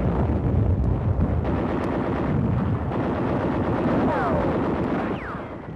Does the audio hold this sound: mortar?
yes